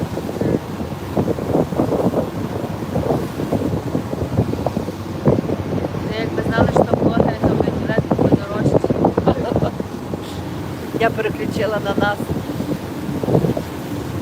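Sea and wind rush around a yacht sailing to Santa Margherita island, with gusty microphone buffeting throughout while someone talks over it in bursts.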